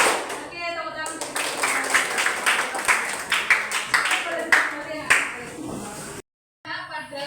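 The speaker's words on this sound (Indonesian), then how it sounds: "Oke, tepuk tangan." Students in a classroom clap together at a teacher's cue during a lesson, giving a burst of close, rhythmic handclaps that runs for several seconds and then stops abruptly.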